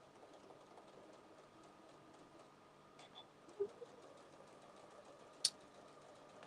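A sewing machine quietly stitches a French seam on an apron, a faint, even mechanical whir with a few small clicks and taps.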